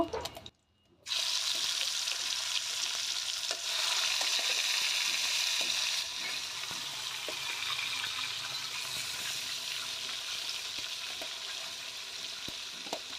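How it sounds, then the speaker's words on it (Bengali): Koi fish frying in hot oil in a home kitchen, a steady crackling sizzle with scattered pops, close and continuous after a brief quiet gap at the start. "তারপরে আমি এতে বাকি মাছগুলো ভেজে নেব"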